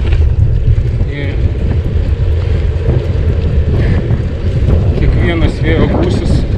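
Strong headwind gusts buffet the microphone while cycling on a multi-day bike trip around Lithuania, producing a loud, continuous rumbling roar that swells and eases throughout.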